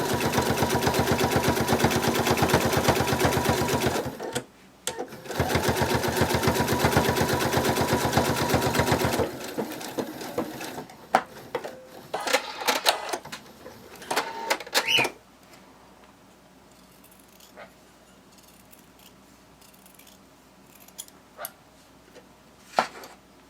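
Sewing machine stitching fabric pieces for a bunny plush, a dense rapid mechanical run for several seconds with a brief pause, followed by a second run, then quieter handling clicks and rustles with no talk.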